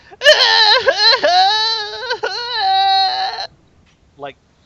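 A voice imitates a baby crying, a loud wavering wail in several pulses for about three seconds, followed by a brief short whimper.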